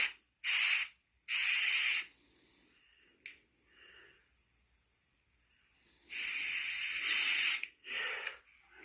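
Short bursts of spray paint hiss onto the tear duct of a black-phase coyote mount: two quick sprays, a pause with faint handling sounds, then a longer spray and a final short one, close and loud.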